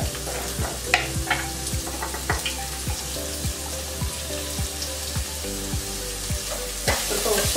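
Junka with chopped onion and salt sizzles steadily in a pan, with regular scraping strokes of a spoon stirring it, close and continuous.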